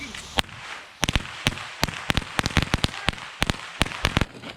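Firecrackers set off for the Fourth of July crackle in a rapid, irregular string of sharp, loud pops, close and mostly alone.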